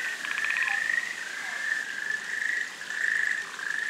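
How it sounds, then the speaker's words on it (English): Otton frog, the largest frog on Amami Island at about 14 centimeters, calls in a steady run of rapid pulsed croaks that form a continuous, fairly loud chorus with no voices over it. "The Otton Gairu is the area's largest frog, growing to about 14 centimeters."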